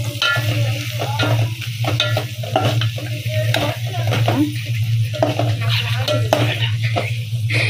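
A drumstick curry is stirred in a pan, the spoon scraping and clinking against the metal over a continuous low frying hiss and a steady background hum.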